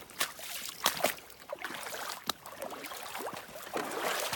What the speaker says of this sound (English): A little wade across.